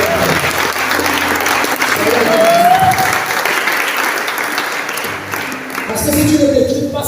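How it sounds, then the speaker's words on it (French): A church congregation applauds at a prayer service, a dense, steady wash of clapping that carries on for several seconds, with voices and shouts mixed in. "Acclamez déjà pour le Seigneur."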